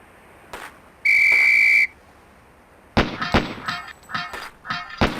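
A single sharp whistle blast of about a second signals the start of a SWAT shooting drill in the 1995 PC game Police Quest: SWAT, followed by a rapid series of loud gunshots and metallic target clangs.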